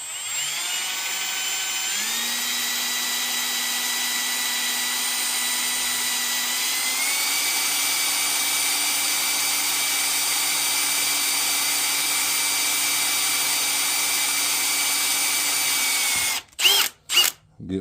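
An electric drill bores a small starter hole for a copper rivet in center-punched metal, whining steadily and loudly with a couple of pitch shifts, then stops with a few short bursts at the end.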